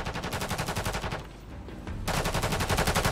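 Rapid automatic gunfire in Call of Duty: Modern Warfare III, loud evenly spaced shots in a fast rhythm that pause for about a second and then resume in another sustained burst.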